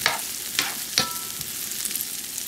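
Chicken pan-frying in butter on a stove, a steady close hiss of sizzling fat with a few brief sharper spits and pops near the start, no voices.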